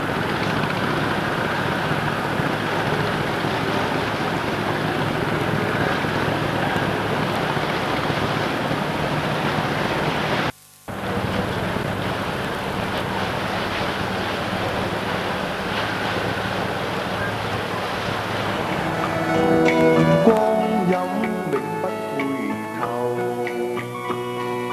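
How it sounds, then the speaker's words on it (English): A 1970s Hong Kong harbour busy with boats and ships gives off a continuous wash of water and wind noise, steady and broad, with a brief dropout midway and faint tonal sounds rising near the end. "The hustle and bustle of all boats and ships and water transport of all shapes and sizes scurry back and forward across the"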